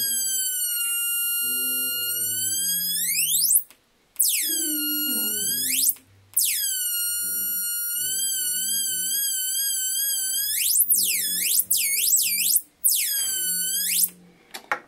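Tone from a 555 oscillator circuit as a variable resistor adjusts its pitch, a shrill electronic whine that sweeps, wavers and swoops with brief breaks, while a person talks faintly underneath.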